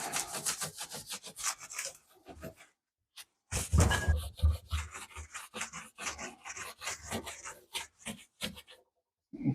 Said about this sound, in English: Let's give this a clean, get rid of all that debris. Let's give it a quick wipe as well.